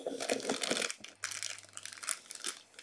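Advent calendar packaging being torn and crinkled open, with rustling, crushing paper and cardboard sounds in bursts throughout, fairly close, with a brief low hum in the middle.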